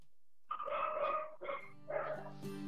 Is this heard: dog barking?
yes